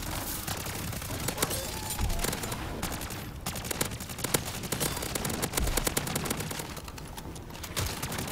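Rapid automatic weapon fire rattles in dense bursts during a round of MW3 Zombies, mixed with game effects and a voice talking underneath.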